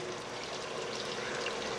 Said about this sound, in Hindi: इस मौके पे हम पानी डाल रहे हैं। मैं 3 गिलास पानी डाल रहा हूँ